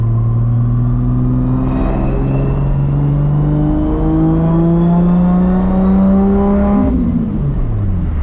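A Toyota Supra MKIV with a 1600 HP motor drives past, its engine note loud and close, pitch climbing steadily through a long pull before a shift and a dropping tone near the end.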